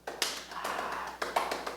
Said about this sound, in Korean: 왜 박수를 쳐?